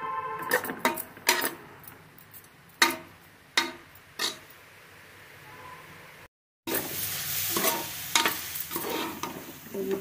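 Carrot halwa being stirred and fried in a pan, with sharp spoon scrapes and knocks against the pan at irregular intervals over a low sizzle, a brief silent gap, then denser stirring and frying.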